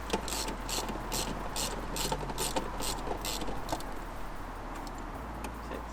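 Ratchet wrench clicking in quick repeated bursts while tightening the bolts on a Grimmspeed cold air intake airbox on a Subaru BRZ / Toyota GT86, close and crisp over a low steady hum.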